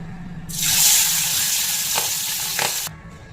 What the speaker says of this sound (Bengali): এবার নুন হলুদ মাখিয়ে পাবদা মাছগুলো ভেজে নিচ্ছি